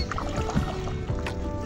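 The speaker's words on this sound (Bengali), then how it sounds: "একটু নৌকায় ঘুরতে এসেছি।" A rowboat carrying a family glides along on open water with soft sloshing and splashing, with occasional light knocks from the boat, close and continuous.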